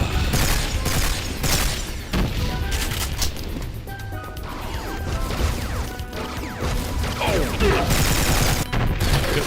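Rapid gunfire in Duke Nukem 3D (1996), loud repeated shots and crashing impacts in dense bursts throughout, close and harsh, with brief gaps between volleys.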